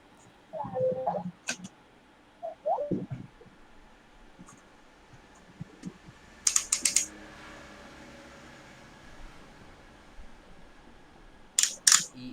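Computer keys are tapped in short scattered bursts of crisp clicks, close by, with quiet pauses between them and brief speech near the start.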